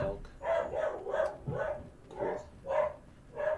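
A dog barks repeatedly in a steady series of medium-pitched barks during Monster Hunter World gameplay, moderately loud over background game sound.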